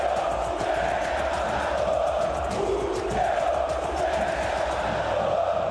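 Football fans in a stadium roar and chant as a goal scorer celebrates with them, a dense continuous crowd din heard from a distance with no break.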